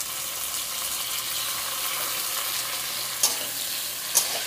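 Steady sizzling and hissing of chopped tomatoes frying in a pan, with a couple of brief clinks partway through; no voices.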